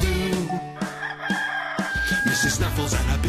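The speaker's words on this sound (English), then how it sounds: "And we all know who goes cock-a-doodle-doo." A rooster crows a drawn-out cock-a-doodle-doo in a cartoon barnyard, loud and near, with clucking fowl and farm background sounds around it.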